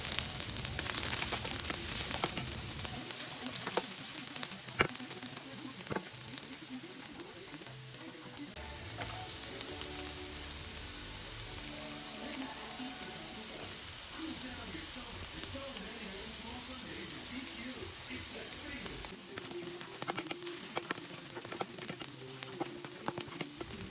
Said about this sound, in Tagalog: naglagay lang ako ng oil sa pan. And then, nagisa ko yung onion and garlic lang yung ilalagay ko guys